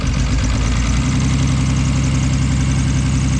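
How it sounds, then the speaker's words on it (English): A Vauxhall engine idles with a misfire, a steady, close, low rumble with an uneven pulsing beat, heard alone without talk. "She's running. In a fashion. But she's running. Misfiring, but it's running."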